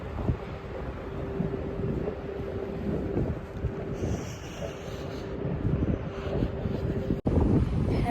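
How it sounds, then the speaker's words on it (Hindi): Strong wind buffeting a microphone outdoors, a loud continuous rumbling roar with gusts that swell and ease, plus a brief dropout near the end. "बहुत तेज़ हवा चल रही है, बहुत ज़्यादा तेज़।"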